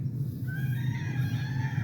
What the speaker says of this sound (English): Every time I'm out here, that rooster won't shut up.